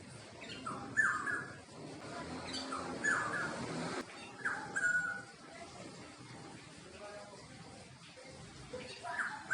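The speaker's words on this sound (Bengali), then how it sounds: "কি পাখি এটা? শালিক পাখি তো এরম ডাকে না।" An unidentified bird, not a myna, calls outdoors near a home kitchen in a few short, shrill squawks repeated at intervals over faint background noise, with a person speaking quietly underneath.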